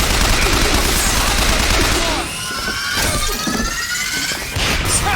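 Heavy gunfire and impacts from combat in Bioshock Infinite, a dense loud barrage that thins after a couple of seconds into scattered crashes and bursts.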